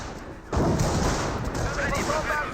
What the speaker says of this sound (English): Sector artillery may take out the squad